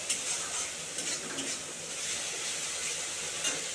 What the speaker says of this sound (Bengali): মশলাটা আমি ভালো করে কষিয়ে নিচ্ছি।